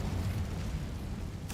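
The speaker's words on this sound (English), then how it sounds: "Damn spiders. Incendio." Casting the Incendio fire spell in Hogwarts Legacy gives a low, rumbling whoosh of flame that roars steadily, followed by a short burst at the end.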